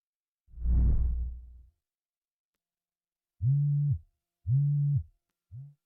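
A phone rings for an incoming call: a soft whoosh, then a pause, then three short electronic tone bursts in a regular pattern, the last cut off, clear and alone.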